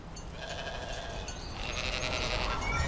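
Sheep grazing in farm fields bleat over a constant outdoor rumble, their calls rising slightly toward the end, moderately loud and with no talking.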